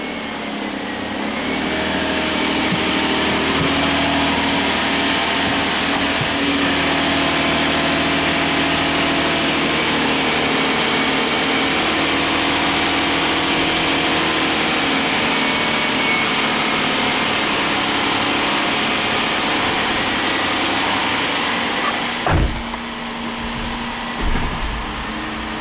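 A Suzuki car engine runs at a steady, even drone during a clutch engagement test after a clutch job, with the parking brake on, then gives a couple of short thumps near the end.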